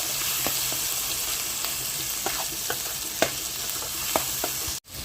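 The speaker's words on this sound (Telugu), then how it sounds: "చూడండి ఫ్రెండ్స్, మసాలా మటుకు మంచిగా వేగింది." Masala frying in hot oil for an Andhra-style mutton paya curry, a steady loud sizzle with a spoon scraping and knocking the pan at irregular moments, close and with no talk.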